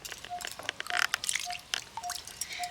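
Raw mangoes lifted out of a bowl of water, giving irregular splashy drips and trickles up close, with a few brief clinks and sloshes and no talking.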